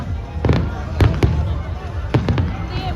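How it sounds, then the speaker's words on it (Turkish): Fireworks burst repeatedly in an outdoor setting in Thailand, sharp cracks in quick clusters over a steady rumble of crowd noise. "burada sürekli havai fişek patlatıyorlar"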